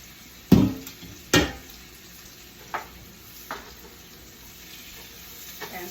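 Chopped sweet potatoes and green beans hit a hot pan and get stirred, a few sharp clatters of food and utensil over a soft steady sizzle, close up and without talk.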